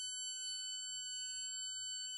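An electronic buzzer on a Code.org physical computing board sounds a continuous, piercing high tone that holds steady and unbroken, with no talking over it.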